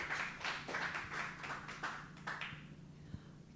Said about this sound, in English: Please give my panelists a round of applause